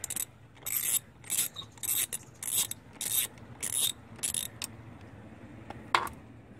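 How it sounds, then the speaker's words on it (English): Repeated bursts of ratchet clicking come from a ratchet with a 10 mm socket loosening bolts on a 2004 Odyssey, about eight short, close, rhythmic bouts of ratcheting with brief pauses between. "Just using a 10 millimeter socket with the ratchets,"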